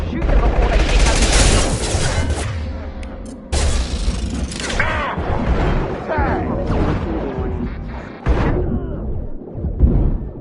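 Heavy gunfire in Mass Effect 2 as a squad shoots down hostile reprogrammed mechs at a colony, loud rapid bursts and metallic impacts with abrupt cuts, and voices talking between volleys.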